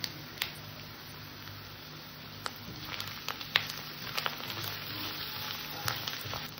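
Spices and a fish head fry in a pan, a soft continuous sizzle with scattered crackles and pops, fairly close and quiet, with no talking.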